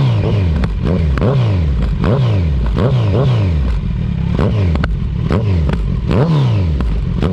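A Kawasaki Z900 motorcycle engine held in second gear, revved hard over and over in quick repeated blips, each rising pitch sweep then dropping back, loud and close with no talk.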